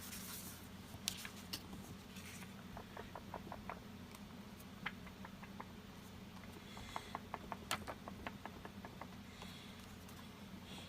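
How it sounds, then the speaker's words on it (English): A paper towel blots a wet, marbled journal page, making faint close-up rubbing and patting with runs of light, quick taps and rustles. "I'm going to turn that over, and I'm going to blot it with the paper towel"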